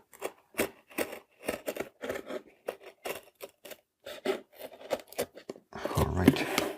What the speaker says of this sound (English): So I'm just going to trim the excess off.